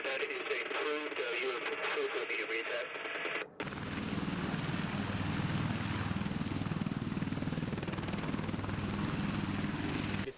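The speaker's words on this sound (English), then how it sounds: "The H1Z helicopter." A UH-1Z Marine military helicopter is heard after radio chatter gives way to a loud, steady rotor and engine roar that dominates the rest of the clip.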